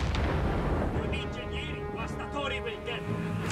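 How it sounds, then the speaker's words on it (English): Mortar rounds explode in Company of Heroes 3 in the middle of a battle, giving a dense low rumble of blasts and booms that runs throughout under shouted in-game voices. "Mortar round! Hitting us!"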